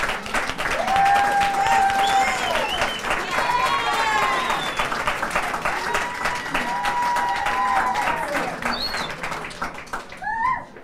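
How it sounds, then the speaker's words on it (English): Crowd applause at a Norwalk Democrats' election night headquarters, steady clapping and cheering for the campaign team that lasts throughout, with voices calling out and speech mixed in. "we give them a round of applause because they made this happen"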